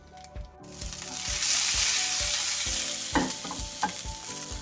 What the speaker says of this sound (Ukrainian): Смажимо до золотистого кольору.